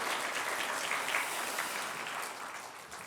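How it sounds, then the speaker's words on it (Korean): A church congregation claps steadily throughout a Christmas service, a dense wash of applause that holds at an even level and eases slightly toward the end. "우리 뜨겁게 격려의 박수 한번 보내주시면 고맙겠습니다"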